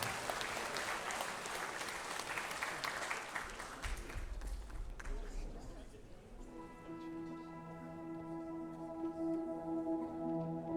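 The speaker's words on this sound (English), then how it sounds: "a round of applause for the people who made it and for the teachers who made those workshops possible" An audience claps at the closing ceremony of an arts festival: sustained, dense applause fills the first half, then fades as a melodic tone sequence begins.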